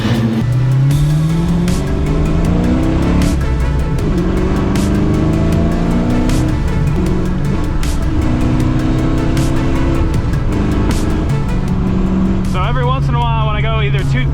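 A 1990 Ford Foxbody's engine runs loud and steady while driving, rising and falling through revs with a gear shift near the end, under continuous close road and cabin noise; a person talks over it.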